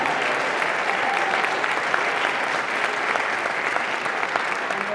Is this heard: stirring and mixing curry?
no